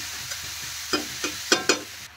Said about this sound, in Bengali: দেখেন ভালো করে কিন্তু মশলার সাথে আমি মিশিয়ে নিলাম।